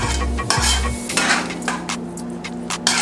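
A spoon stirs Jamaican curry chicken foot gravy in a pot, with close metallic scrapes and clinks against the side over a soft simmering sizzle.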